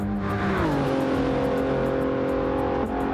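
A race car howls past on the Monza circuit in a sim racing game, loud and close, its engine pitch sweeping down as it passes and then holding a steady high drone before a brief gear-change dip.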